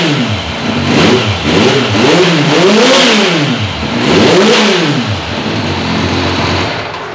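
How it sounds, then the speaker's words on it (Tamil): A second-hand motorcycle engine fired up and revved through its exhaust, loud and close, with several rising and falling rev sweeps before settling toward idle. "வண்டி இப்போ ஸ்டார்ட் பண்ணி காட்டுறேன் பாருங்கள், எக்ஸாஸ்ட் சவுண்டு வேறு லெவலில் இருக்கும்"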